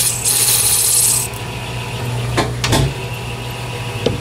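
A metal lathe faces off a part with a scraping, rasping cut, a hissy burst early on, then softer rubbing with a few sharp clicks and scrapes, close and clear with no talk.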